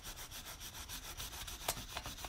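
Colored pencils rub quickly over a textured surface for frottage, a soft scratchy back-and-forth rasp repeating in short rhythmic strokes, close and quiet with no speech.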